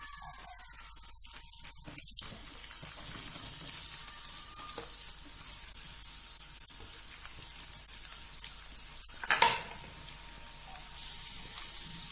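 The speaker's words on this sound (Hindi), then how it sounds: "चिकन को तकरीबन 1 मिनट तक हमने ऑयल के अंदर फ्राई किया है" Chicken frying in oil with garlic ginger paste, a continuous close sizzle with a brief louder burst of spitting near the end and faint clinks from the pan.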